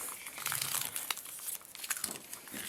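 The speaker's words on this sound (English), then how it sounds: "I'm going to secure those wires with some 100-mile-an-hour tape just to keep it together" 100-mile-an-hour tape, a heavy-duty duct tape, is wrapped around wires on a homemade target stand, making a close, continuous crinkly rustle with sharp tearing crackles scattered through it.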